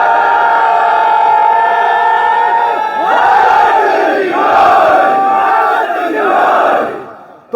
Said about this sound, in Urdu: وۄنۍ دِیِو نعرے حیدری.